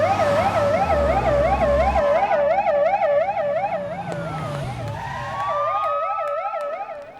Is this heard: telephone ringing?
no